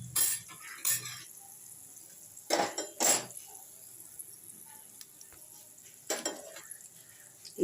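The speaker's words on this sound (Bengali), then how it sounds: "এই সর্ষেগুলোকে আমি একটু ম্যাশ করে নেবো এরমভাবে" A metal ladle mashes fried mustard seeds in a pan with the flame switched off, making a few scattered scraping and knocking strokes in short clusters against the pan, separated by a quiet stretch.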